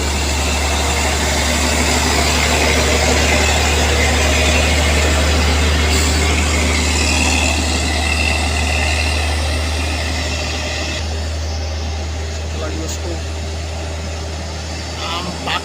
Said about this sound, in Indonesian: Nampak mengeraung suara mesin itu bosku.